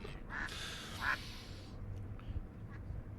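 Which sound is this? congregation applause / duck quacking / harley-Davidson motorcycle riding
duck quacking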